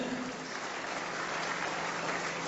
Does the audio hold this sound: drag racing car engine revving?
no